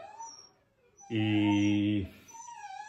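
Dogs around feeding time, one loud drawn-out howl or whine lasting about a second, with faint yips and whimpers before and after.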